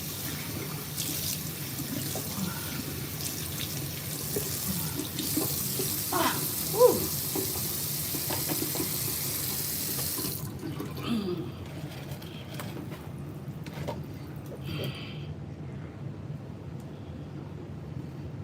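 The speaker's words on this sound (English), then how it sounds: "So I'm gonna go ahead and put ice cold water on my face this morning." A bathroom tap runs cold water for face washing, a steady low splash and hiss that continues throughout, fairly close, with faint handling noises and splashes over the flow.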